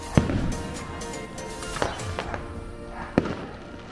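Evening fireworks display at Enchanted Kingdom theme park in Santa Rosa, watched from a nearby roof deck: distant booms and crackles at irregular intervals, three sharper bursts standing out over a low background rumble.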